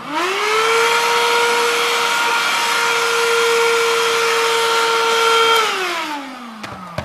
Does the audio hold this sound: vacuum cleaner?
yes